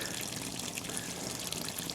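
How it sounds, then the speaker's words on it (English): Water leaking and trickling inside a Bonafide XTR130 kayak, a steady close hissing splash with no pauses. "The water's leaking out everywhere. It's piling up."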